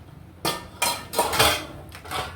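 A perforated metal vada ladle knocks against a bowl in four or five sharp clanks spread over a couple of seconds, close and fairly loud, with no voices.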